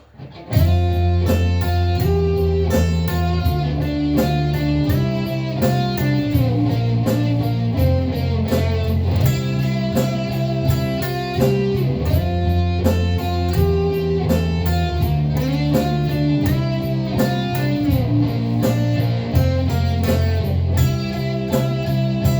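An electric guitar plays the melodic solo over a full, steady band backing, sustained lead notes moving in phrases, loud and continuous throughout with no talking.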